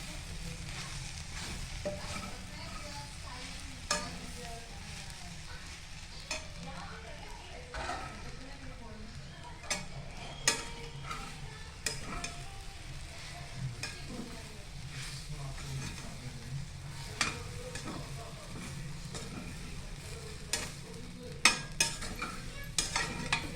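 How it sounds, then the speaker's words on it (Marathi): Bread upma being stirred and sautéed in a pan, with a steady soft sizzle and repeated scraping clicks of a spoon against the pan throughout, while a voice talks over it. "चांगली परतवून घ्यायची"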